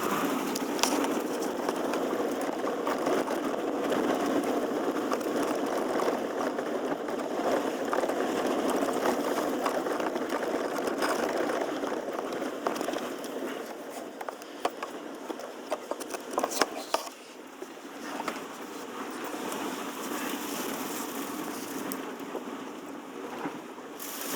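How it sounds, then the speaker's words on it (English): Sand blows against a Lexus GX460 driving through a Mojave Desert sandstorm, a continuous rushing hiss of wind and grit with scattered ticks and taps, steady and close for the whole stretch. "this feels just as cool as it looks to have all the sand blowing at you"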